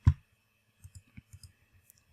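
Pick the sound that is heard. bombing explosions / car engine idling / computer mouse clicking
computer mouse clicking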